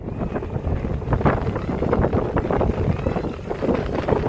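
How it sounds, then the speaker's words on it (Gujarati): Wind gusts buffet the microphone beside the Mahisagar river during monsoon season, with a steady broadband rush of wind and water washing against the shore, loud and continuous with no speech. "પવન પણ ચાલી રહ્યો છે અને કિનારા સુધી પાણીના મોજા પણ આવી રહ્યા છે."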